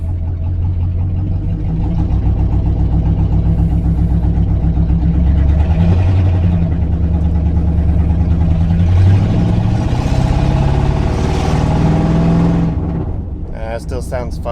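Lincoln Continental engine with a valve tick, pulling under load while driving around the block; a steady, loud mid-pitched engine drone with rising revs, close to the microphone, easing off near the end.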